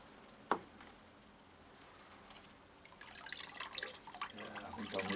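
Wet growing medium for orchids is squeezed by hand, giving a faint trickle that turns into a dripping, splattering run of water toward the end.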